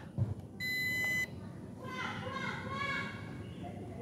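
A single steady electronic beep from an MJX Bugs 12 EIS drone remote controller powering on lasts under a second, followed by a higher rising chime of tones, with children's voices in the background.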